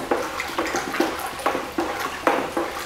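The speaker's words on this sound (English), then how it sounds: "we're just going to give the glaze a bit of a stir" A bucket of pottery glaze is stirred, giving rhythmic sloshing, swishing strokes roughly every half second, close and clear, with no talk.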